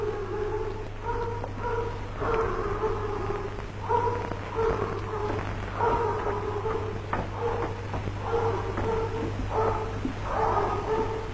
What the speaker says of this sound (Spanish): ¡Es el perro!